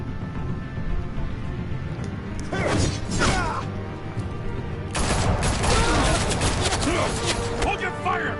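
Gunfire in a Batman video game episode, bursts of rapid rattling shots in two clusters with clanking and crashing mixed in, over a steady background hum and talk.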